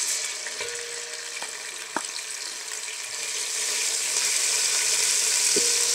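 Ginger garlic paste sizzling in ghee in which onions were browned, a steady close hiss that grows slightly louder, with a few sharp clinks of a utensil, no speech.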